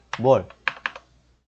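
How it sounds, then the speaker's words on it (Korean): Brief dry clicks of a computer keyboard key being pressed come just after a short spoken sound. The taps are close and quiet, in a quiet room. "키보드 딜리트를 딱 눌러보시면"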